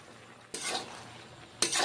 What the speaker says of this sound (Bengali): এখন মাশরুমগুলো আমি ভেজে নিচ্ছি।